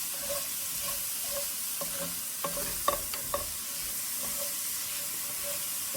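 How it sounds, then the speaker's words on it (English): Garlic sizzles in a frying pan with salt and pepper, a constant quiet hiss broken by a few scraping, clacking stirs near the middle. "Just stir this around until the garlic is fragrant."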